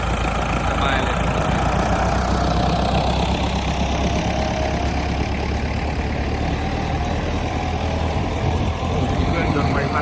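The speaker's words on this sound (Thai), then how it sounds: "เครื่องยนต์ใบพัด" A boat's propeller engine runs steadily, a dense mid-pitched mechanical drone with rough chugging texture that stays loud and constant throughout, with no pauses.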